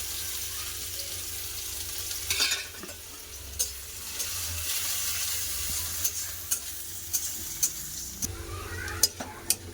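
Onion goes into hot mustard oil in a wok and fries with a steady sizzle, while occasional sharp clicks and scrapes of a spatula against the pan sound close by.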